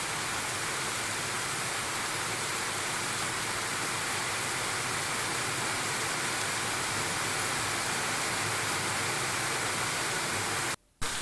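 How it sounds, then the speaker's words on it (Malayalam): Steady afternoon rain pours in an even, dense hiss that holds at constant loudness for the whole stretch, with no voices, then cuts off abruptly near the end. "ഇന്നപ്പോൾ നേരത്തെ തന്നെ മഴയുണ്ട്."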